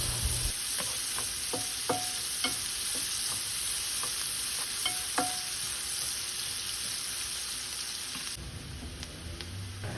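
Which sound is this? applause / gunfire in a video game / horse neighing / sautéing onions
sautéing onions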